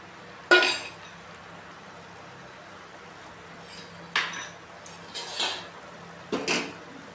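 Fried kakrol (spiny gourd) is tipped into a pan of mustard masala and stirred, making a few distinct metallic clinks and scrapes of a spoon against the pan, spaced apart over a quiet background.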